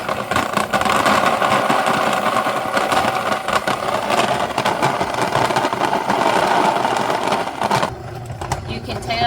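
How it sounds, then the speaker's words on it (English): A stone grinder mills home-grown dried corn into coarse grits with a continuous, loud mechanical whir and rumble that drops off and slows near the end. "it's just about finished grinding because it's starting to slow down"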